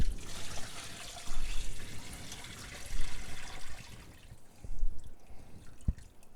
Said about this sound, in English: Then I'm going to bury it in some water.